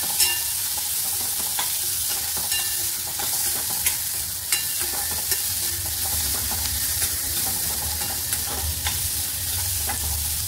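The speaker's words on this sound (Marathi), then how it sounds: "मस्त कांद्याचा लाल करून घेऊया।" Onions fry in a pan with green chili and curry leaves, a constant close sizzle broken by repeated scraping stirs and clinks of the spoon against the metal, no talking.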